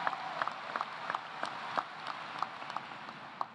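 Audience applause at a university summer commencement ceremony, a steady wash of many hands clapping at a distance with scattered sharper claps, fairly faint and continuous with no talk over it.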